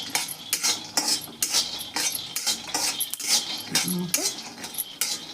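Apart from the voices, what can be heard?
stirring peanuts roasting in a pan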